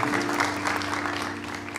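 A church worship audience breaks into dense, sustained applause, a continuous wash of many hands with music lingering underneath.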